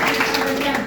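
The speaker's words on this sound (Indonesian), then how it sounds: "mungkin aplaus dulu ya" Audience applause in an Indonesian history class: steady, dense clapping from a room of people, close and loud throughout.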